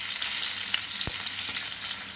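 Koi fish frying in hot oil, a steady close bubbling sizzle with one brief clink of a utensil, no voices.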